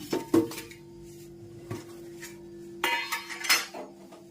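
Chevda spices being stirred in a pan, a metal spoon scraping and clinking against the pan in a few separate bursts, close and fairly clear, with quiet gaps between the strokes.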